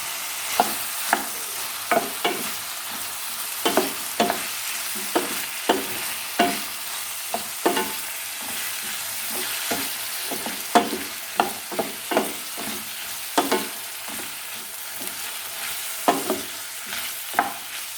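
Cauliflower pieces frying with cooked onions, a constant soft sizzle punctuated by frequent rhythmic scrapes and taps of a spoon stirring the pan, close up and without talk.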